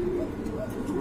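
A pair of white fancy pigeons held for sale coo in soft, rolling low calls, close by and steady, with no voices heard.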